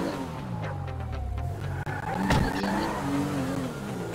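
A car in the GTA V video game drives hard with engine roar and tire noise, a brief skid squeal partway through, loud and close with no talk.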